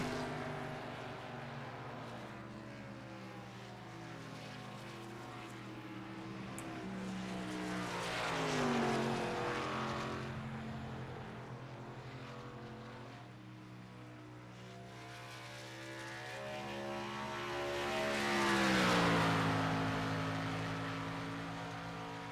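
Onboard car number 77 on the Indianapolis Yard of Bricks, the engine drones steadily, swelling twice in long rising-and-falling passes with a faint whine on top, heard alone without voices.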